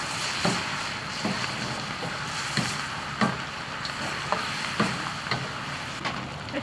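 Duck pieces with young ginger, garlic and liquor stir-fried in a wok: a constant loud sizzle with spatula scrapes and clanks every half second or so, no talking.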